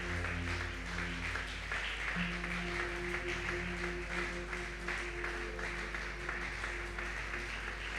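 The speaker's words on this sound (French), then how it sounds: "Est-ce qu'on peut mieux acclamer Jésus?" A church congregation applauding and acclaiming Jesus during a sermon, steady massed clapping and cheering under a loud sustained musical drone and hum.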